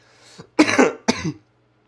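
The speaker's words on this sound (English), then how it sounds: "my sickness has developed into a cough" Two harsh coughs from an illness, close and loud, with a short throaty rasp just before them and a pause between bursts.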